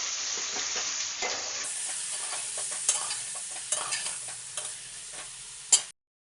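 Cut brinjal pieces drop into hot oil tempering and are stirred, giving a steady loud sizzle with scraping stir strokes and a few sharper clinks near the end, no talk.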